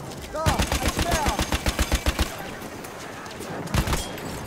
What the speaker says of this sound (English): that's the M1917 MG